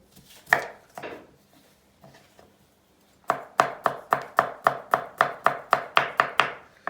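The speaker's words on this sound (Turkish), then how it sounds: "Bir tane de havuç doğrayacağız." A couple of isolated knife cuts into a carrot, a short pause, then a brisk regular series of chopping strikes on a board, nearby and distinct.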